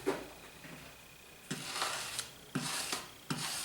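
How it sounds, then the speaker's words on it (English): A razor blade scraping dried paint off a painter's palette, several close rasping strokes in a steady rhythm, each starting with a sharp catch, fairly quiet. "The old trusty razor blade out to clean my palette"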